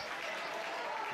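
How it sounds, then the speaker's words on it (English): A home crowd at a Chaska high school baseball game cheers and applauds in a dense, steady wash of noise, loud and sustained for about a second, with a voice mixed in. "Hawk crowd starting to get into it"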